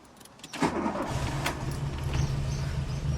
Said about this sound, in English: Golf GTI shouldn't need any throttle to start, so let's hope that works here